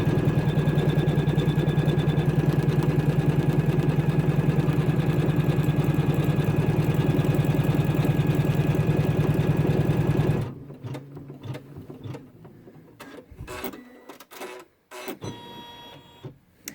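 An embroidery machine sews fabric down onto a towel with a loud, fast, even stitching rattle lasting about ten seconds before it halts, followed by scattered clicks and handling noises.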